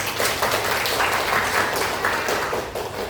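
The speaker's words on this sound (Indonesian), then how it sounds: "Oke, tepuk tangan ulang." Children in a classroom clap together in a steady, dense round of applause that fills the room, continuing at an even level before tapering slightly at the end.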